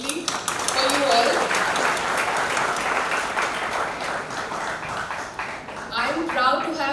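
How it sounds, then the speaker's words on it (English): An audience applauds steadily at a launch event for menstrual health teaching modules, a dense wash of clapping lasting throughout while a person speaks over it at times. "a big round of applause for all of you to be present here for this amazing initiative"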